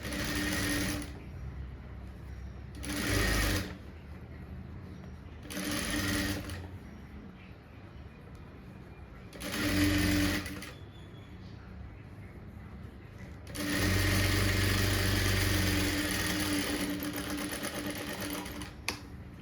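Sewing machine stitching along a blouse edge in a tailoring class, running in short bursts of whirring with pauses between, ending in one longer steady run, with someone talking in the gaps.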